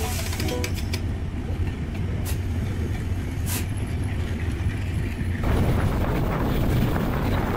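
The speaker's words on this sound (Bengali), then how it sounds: "ঈশ্বরদী হতে ননস্টপ চিলাহাটি এক্সপ্রেসকে দাঁড় করিয়ে চলে যাচ্ছে আন্তনগর" The Intercity Ekota Express rushes past on the line after overtaking the nonstop Chilahati Express, a loud continuous roar of wheels and rumbling carriages that grows heavier and rougher partway through.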